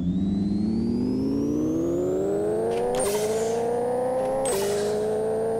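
A BMW 120 engine in the video game Pixel Car Racer revs steadily upward as a smooth synthetic whine, dropping in pitch at two gear shifts before climbing again, loud and continuous.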